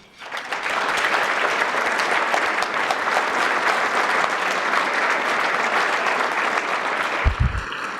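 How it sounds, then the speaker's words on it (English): Audience applause at an award ceremony for political reporting, rising quickly into a sustained, even roar of many clapping hands in a hall, with a low thump just before the end. "Would you please give a round of applause for all of those in the political reporting trenches?"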